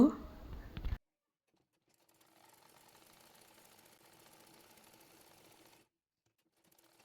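A domestic sewing machine runs a steady stitching burst along a kameez seam, a brief voice or noise first, then about three and a half seconds of even mechanical whirring at moderate level before it stops.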